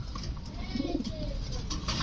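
A young female pigeon gives a soft, low coo near the middle, heard over a steady background rumble.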